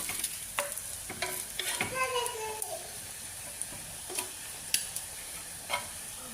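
Potatoes and eggs frying in a home kitchen pan, a soft continuous sizzle with frequent utensil clinks and scrapes against the pan, while a voice speaks briefly in the background.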